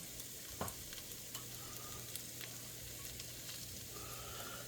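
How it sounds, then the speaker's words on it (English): Onion fries in a pan for a Spanish omelette, a soft continuous sizzle with a few faint scrapes and taps of stirring, quiet and close with no talking. "Now we're going to put some onion."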